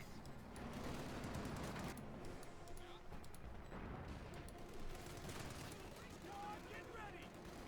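Battle gunfire in the strategy game Company of Heroes 2, with Sturmgewehr rifle shots and other weapons crackling in dense, continuous bursts and booms throughout, under a steady wash of combat noise.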